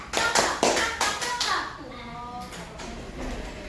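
Teachers at an elementary school training session do the rhythmic 'tepuk sehat' clapping game, with a burst of sharp, patterned hand claps up close followed by voices speaking.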